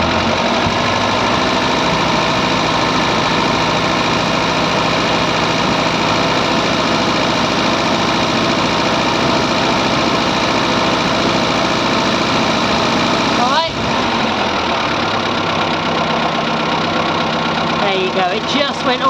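A Morris Minor car engine runs with a steady, loud idle for most of the stretch, then is gently revved near the end before settling back down.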